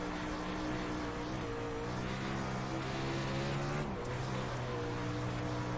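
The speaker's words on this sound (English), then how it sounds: "2 cars are gonna get by me for a split second." A 360 sprint car racing video game: engines drone steadily at close range with layered revving tones as two cars pull past, the pitch dipping briefly as the player lifts off the throttle near the wall.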